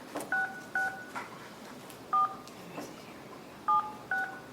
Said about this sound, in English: Please enter your passcode followed by the pound or hash key